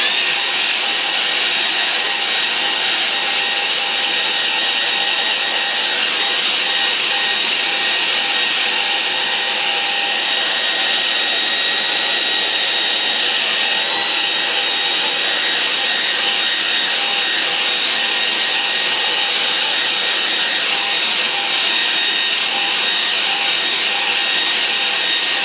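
A hair dryer blows steadily on a watercolour painting, a loud constant whirring hiss held close and unbroken throughout with no talking.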